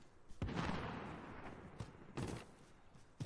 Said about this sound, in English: there's gunshots coming from your direction.